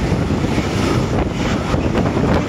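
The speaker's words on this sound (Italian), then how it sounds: "Mica che vento, ragazzi." Strong wind buffets the microphone beside a railway line in a continuous rough roar, with gusty surges over a low rumble.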